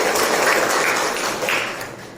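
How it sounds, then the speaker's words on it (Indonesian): Children clapping together in an Indonesian classroom during a civics lesson, a short dense burst of applause that fades slightly toward the end. "Tepuk tangan untuk kalian."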